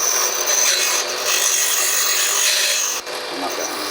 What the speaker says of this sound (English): I'll do that on a grinder